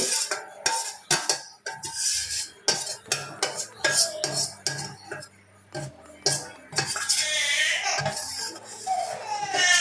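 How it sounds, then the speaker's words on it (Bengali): Spices stirred into homemade mango pickle in a pot after oil is poured in, with repeated clinks and scrapes of a utensil against metal in an uneven rhythm, fairly close. "সব ঢেলে নিচ্ছি। মশলাগুলো ভালো করে চেটে দিচ্ছি।"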